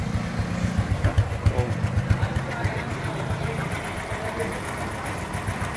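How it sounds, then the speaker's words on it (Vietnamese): A 2001 Honda Super Dream motorcycle engine idles with a steady, rapid low thumping pulse close by, fairly quiet and even throughout with no voices over it. "Máy đang nổ rất là ok anh em"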